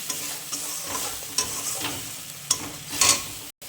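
Turmeric and spices for a prawn curry sizzle in a pan, with steady frying hiss broken by sharp scrapes and stirring strokes, close and fairly loud, no talk.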